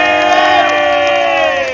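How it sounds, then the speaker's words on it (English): Rally crowd outside Downing Street cheering and whooping, a dense, loud wall of voices sustained throughout with no gaps. "Everyone give a round of applause for Miss Pence"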